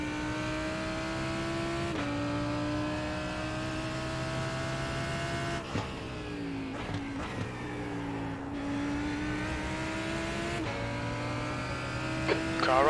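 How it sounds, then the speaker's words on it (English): GT3 race car engines roar in an IMSA GT3 racing game, a sustained high revving drone that shifts through gear changes and brief lifts as a faster car closes in, with a voice speaking briefly over it. "There's a faster car approaching."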